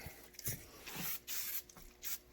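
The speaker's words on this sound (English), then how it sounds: "Do a quick spray with the rem oil." Several short hissing spray bursts from an aerosol can of Rem Oil gun oil, close by, separated by brief pauses, with faint handling noise between them.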